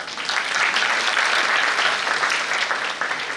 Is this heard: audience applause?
yes